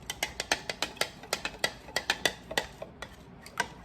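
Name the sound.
mixing panzanella salad in a bowl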